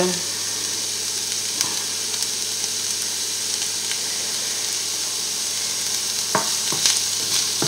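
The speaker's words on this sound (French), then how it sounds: "on remue bien pendant 5 minutes" Bolognese sauce is stirred in a pan with a steady low sizzle and soft scraping throughout, a few sharper utensil clicks near the end, and no talking.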